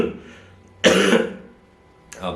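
A man coughs hard once, a harsh close burst lasting about half a second, followed after a pause by the start of another cough, in a quiet room.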